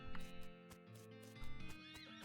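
A horse whinnies loudly in the video game West of Loathing over a background of plucked music, with hoof clip-clops and a second neigh near the end.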